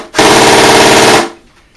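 A Well XM8 airsoft rifle powered by an 11.1 volt LiPo battery fires one loud, close full-auto burst of about a second, with a rapid even buzzing rhythm, then cuts off into near silence.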